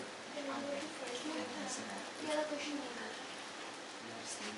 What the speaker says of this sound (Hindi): कंटिन्यूअसली बारिश हो रहा है।